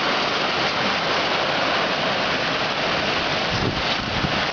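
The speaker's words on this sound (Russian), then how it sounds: "Тропический ливень и град." A heavy tropical downpour with hail in Kursk, a steady, dense roar of rain and pelting ice that holds at an even loudness throughout with no pauses.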